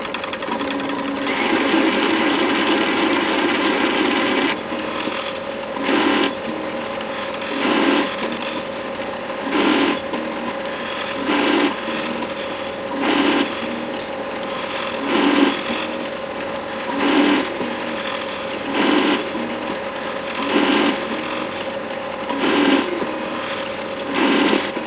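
A Myford ML7 lathe in back-gear with an electronic leadscrew cuts a 2mm-lead ACME thread in 303 stainless, humming steadily with a rhythmic cycle of cutting passes and brief pauses, close and fairly loud, no voices.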